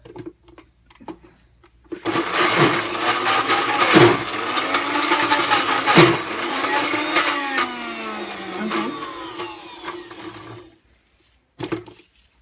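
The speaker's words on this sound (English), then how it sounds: "You can mix it around if your blender like ours struggles a tiny bit" A blender whirs loudly through thick paper pulp, its motor pitch straining and shifting, with brief pauses and clunks before it stops.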